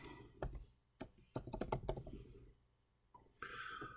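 Fast keystrokes on a computer keyboard type out a single French word, a burst of sharp clicks close to the microphone, followed by a pause and a brief hiss.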